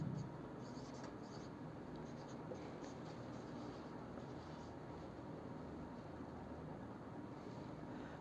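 Chalk or marker writes a sentence on a classroom board during an English grammar lesson on capital letters, giving a faint scratchy scraping under a steady background hiss, with no talking.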